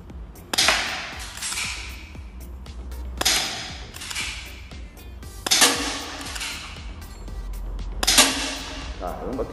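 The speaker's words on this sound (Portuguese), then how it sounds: "vamos fazer os disparos para ver a precisão dela com esse alvo maior aqui" An airsoft pistol, apparently a Beretta style, fires four separate sharp cracks at a target, each shot followed by a brief rattling tail, with quiet pauses of about two seconds between them.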